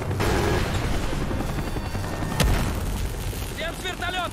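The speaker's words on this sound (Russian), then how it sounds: "Огонь по вертушке." Helicopter under heavy fire in the Call of Duty Black Ops video game: a loud, steady rotor roar with booming impacts and a sharp blast mid-clip, bursts of gunfire and chirping effects near the end, and voices under the din.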